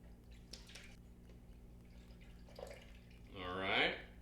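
Milk pours into a pot for a quadruple batch of tapioca pudding, a soft liquid splash that rises in pitch and grows louder toward the end over low kitchen hum.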